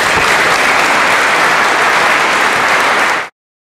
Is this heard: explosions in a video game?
no